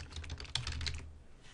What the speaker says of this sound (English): So you can just punch in your domain name here